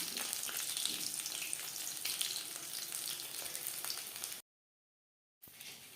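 Fish pakora deep frying in hot oil gives a close, steady crackling sizzle that runs for a few seconds, breaks off into a second of silence, then resumes.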